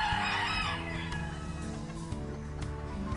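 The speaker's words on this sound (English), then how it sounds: "Chooks, mate, this is fantastic." Backyard chickens in a garden give close, moderately loud clucking throughout, with a rooster crowing over the flock's steady chatter and no talk.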